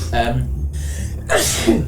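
A person sneezes sharply and close by during a tabletop role-playing session, with a breathy intake and a second explosive burst, with no clear talk around it.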